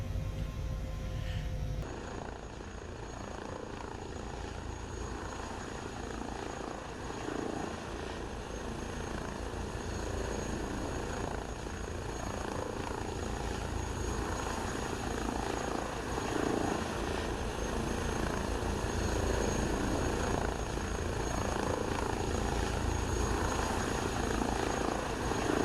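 Airbus H160 helicopter in Microsoft Flight Simulator 2020, hovering a few feet up and then setting down, its steady turbine whine and rotor drone loud and continuous throughout with no talk.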